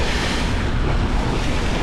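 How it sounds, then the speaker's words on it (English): Large waves on Lake Michigan near Vienna Shoals strike a cruising boat, heard as a steady, loud wash of surf and water noise mixed with wind buffeting the microphone, with no let-up and no voices. "These are not half-foot waves."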